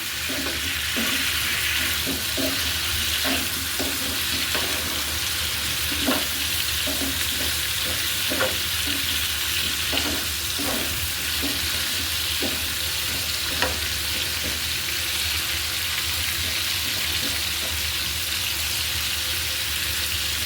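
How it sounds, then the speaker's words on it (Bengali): Potatoes fry in oil in a pan, a steady close sizzle with repeated scraping stirs of a spatula throughout, no voices. "আলুগুলো ভালো করে ভাজা হলে আমি আবার আসবো।"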